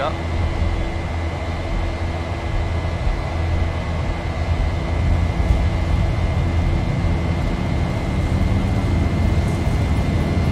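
Airliner taking off in the X-Plane 11 flight simulator on a Milan to Casablanca flight, a steady broadband jet engine roar with a constant tonal whine, holding even and loud throughout, with no one speaking.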